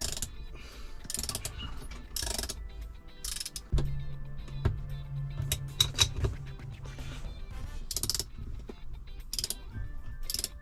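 A ratchet works a nut loose while a short shifter goes into a 2011 Subaru WRX, sounding as bursts of close, rapid clicking with metallic clanks and a brief low hum between strokes.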